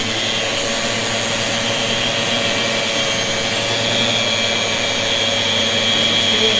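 A Festool ROTEX 150 sander runs steadily with a loud, constant whirring roar and high-pitched whine, held level on a surface with its dust hose attached, the drone unbroken throughout.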